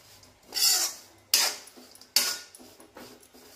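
Roasted coconut scraped from a pan onto a large plate while making Kolhapuri black masala. Three distinct rasping metal scrapes come close and clear, with light clinks between them.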